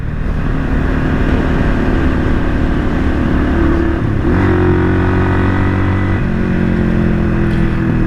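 A 1978 Kawasaki KL 250 motorcycle, freshly rebuilt, revs loudly and continuously while being ridden, its engine note rising and falling with uneven throttle and a marked pitch shift midway through.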